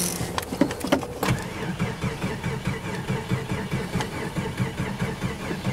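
A car engine cranks on a cold morning start, its starter churning in a rapid, even rhythm that sounds sluggish and never catches; loud and close, with a few sharp clicks near the beginning and no voices.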